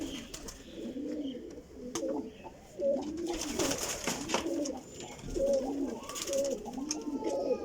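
Flying pigeons coo in overlapping, rolling calls, with occasional rustles and wing flutters, fairly close. Someone speaks briefly in the background.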